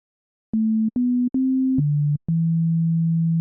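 A pure, sine-like tone from the Pigments synth's default preset plays five plain notes in sequence, short separated steps ending on a longer held low note, clean and alone.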